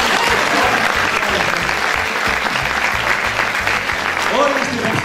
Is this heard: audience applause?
yes